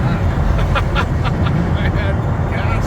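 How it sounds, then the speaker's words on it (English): A truck trailer hauling a jet engine rattles and bangs while on the road, with loud rumbling road noise throughout and people talking over it. "Listen to that trailer, eh?"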